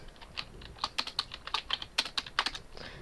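Fast typing on a computer keyboard: roughly a dozen crisp, close keystrokes in an uneven rhythm over a few seconds, with no voices.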